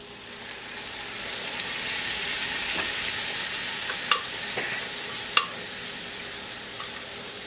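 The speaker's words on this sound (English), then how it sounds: "Now that our onions are translucent, we are going to add our spinach puree." Translucent onions frying in a pan keep up a steady, moderate sizzle as spinach puree goes in, with a few sharp clicks of utensils against the pan and soft stirring scrapes, close by and without talk.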